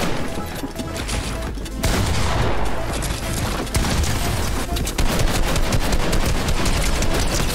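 Rapid gunfire in the Fortnite video game, with dense bursts of close, loud shots and sharp cracks running almost without pause.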